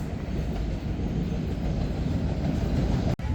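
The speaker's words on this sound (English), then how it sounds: "here comes the train" A subway train arriving at a Boston station, a loud continuous rumbling roar of wheels and cars close by, ending with a brief sharp click.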